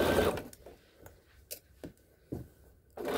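A home sewing machine stitches fabric in short, close bursts of whirring separated by pauses, with brief clicks between runs.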